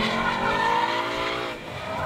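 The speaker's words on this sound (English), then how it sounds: "Slides are manageable, tire smoke is readily available, and the car looks really cool doing it." A 2019 Ford Mustang Bullitt slides with its tires squealing, a loud continuous screech over the engine's steady roar that dips briefly and then swells again.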